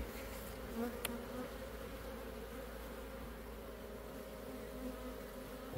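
Honeybees at a beekeeper's hive hum in a steady, dense buzz that continues throughout, close and even with no talking.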